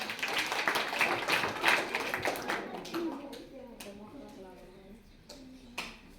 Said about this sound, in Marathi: त्यासाठी एकदा जोरदार टाळ्या वाजवा रे.